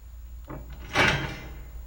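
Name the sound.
wooden door sound effect pitched down, settling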